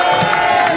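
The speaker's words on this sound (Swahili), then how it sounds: "Tupigie Gavana Ray makofi mazuri" A crowd cheers and applauds for Governor Ray at a rally, a loud, dense wash of voices and clapping filling the short moment, with music tones sustained underneath.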